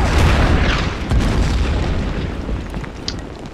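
Artillery fire in the Order of Battle Pacific strategy game, heard as a loud, dense boom that rumbles low and slowly fades over a few seconds, with no talk over it.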